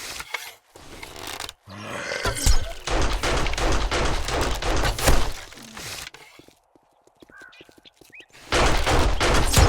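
Rapid gunfire bursts from a character in 7 Days to Die, modded with War of the Walkers, crackle in dense volleys, pause for a quieter stretch, then resume loudly.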